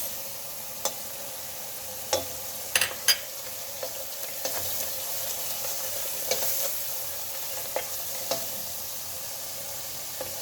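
Spices sizzling in a pot while making yüksük soup: a soft, steady frying hiss with scattered sharp clicks and scrapes of stirring, close and moderately quiet.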